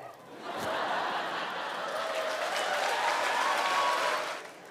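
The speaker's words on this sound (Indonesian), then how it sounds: "Mohon tidak usah tepuk tangan." An audience at a wayang shadow-puppet performance breaks into applause, a broad wash of many hands clapping that swells, holds steady, then tapers off, with faint chuckles mixed in.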